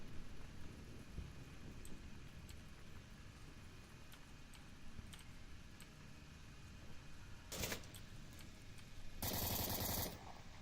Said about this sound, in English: Expediter opens fire on Brass